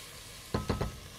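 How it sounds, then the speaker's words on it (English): Cumin seeds and oregano toasting in a hot pan for a Mexican pork stew, giving three short bursts of crackling sizzle over a quiet background, with no voices. "I'm going to toast up, this is cumin, a little bit of oregano"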